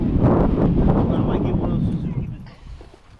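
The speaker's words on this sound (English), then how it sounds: "it's windy out here" Strong wind buffets the microphone outdoors at a chukar and pheasant hunt, a loud rumbling gust that eases off toward the end, with voices faintly present.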